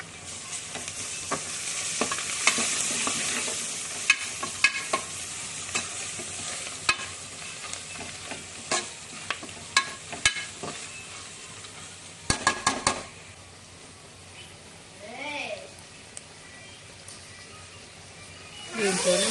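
Ginger fries in a pan for a tomato dal curry, with a constant hiss of sizzling oil broken by repeated sharp clanks and scrapes of a spoon stirring against the metal. Toward the end the sizzle quietens and a faint voice is briefly audible.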